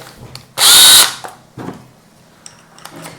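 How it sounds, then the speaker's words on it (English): A power drill with a pocket-hole bit whirs loudly in one short burst of about half a second, followed by a few faint clicks and handling noises. "or you're using your drill"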